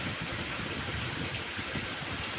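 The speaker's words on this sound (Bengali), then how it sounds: "বৃষ্টি হচ্ছে আর এখানে বাব্বাটা একদম রিল্যাক্সে ঘুমাচ্ছে বৃষ্টির ভিতরে।" Rain falling outdoors makes a constant, even rushing hiss, full and close, with no voices or other breaks.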